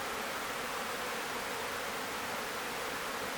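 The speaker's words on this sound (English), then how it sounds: "You can see all the bees hanging there." A steady, dense insect hum fills the whole clip, a continuous close buzzing of honeybees hanging on comb in a hive, with no voices.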